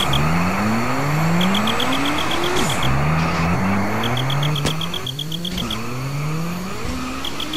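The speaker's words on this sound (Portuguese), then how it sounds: "Esse carro aqui que é meio difícil de controlar, hein?" Car engine in GTA San Andreas revving hard with rising gear sweeps, a drift car that is hard to control, loud and continuous with tire squeal and skidding over a steady high whine.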